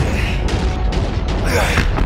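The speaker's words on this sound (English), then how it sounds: "Incoming missile, carrying two more here!" Missile explosions in the Call of Duty Infinite Warfare video game: a few heavy, broadband blasts burst close and loud over dense, continuous battle noise.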